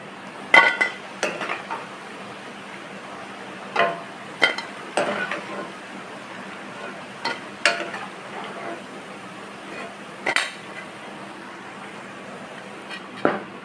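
Sweetcorn vadas fry gently on low heat in a pan: a soft, steady sizzle carries a scattering of sharp metallic clinks and scrapes from a utensil against the pan, with no talking.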